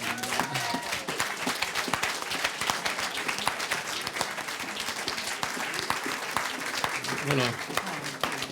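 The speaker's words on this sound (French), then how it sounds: "Vous pouvez l'applaudir." Audience applause for author Linwood Barclay at a literary café event, dense steady clapping from a crowd throughout, with a presenter's voice briefly heard over it.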